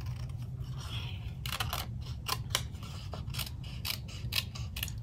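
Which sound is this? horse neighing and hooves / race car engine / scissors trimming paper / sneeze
scissors trimming paper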